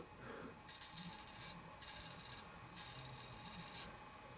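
Three short, crisp scraping strokes follow one another as a forged Kh12MF steel knife edge shaves hair, each a bright rasping swipe of about a second, close and clear over quiet background hiss.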